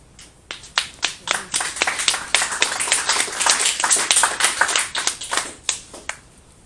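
Audience members clap at a public hearing, a burst of uneven hand claps building into a fairly dense patter at close range, then thinning out to scattered claps at the end, with no talk over it.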